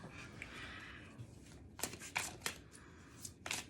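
Tarot cards are drawn and shuffled close by in a series of short, crisp riffling bursts that come in a loose, uneven rhythm over faint, quiet room tone, with no one speaking.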